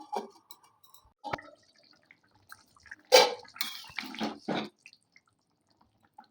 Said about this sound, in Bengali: দেখুন, এবার আমি জল দিয়ে দেবো।